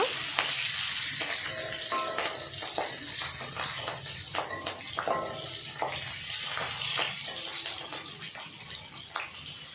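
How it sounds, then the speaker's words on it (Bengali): Bay leaf, dried chili, coriander and whole garam masala fry in hot oil for dum aloo, a steady close sizzle broken by repeated crackles and pops and the scrape of stirring. "তেজপাতা শুকনো লঙ্কা ধনে আর গোটা গরম মশলা দিয়ে দেব হালকা ভেজে নেব"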